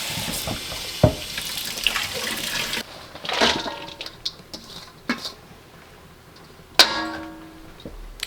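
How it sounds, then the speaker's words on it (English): Kitchen faucet water runs steadily into a sink while starchy water is rinsed off cubed potatoes, with occasional clangs and knocks of a pot or colander over the continuous splashing flow. "let's go over and rinse out all of this starchy water here"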